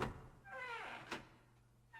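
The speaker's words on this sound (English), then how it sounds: "grabbed the doorknob and pulled the door open" A door in a video game is pulled open, a short creaking sweep followed by a sharp knock-like thunk, then a quieter tail and a faint final tap.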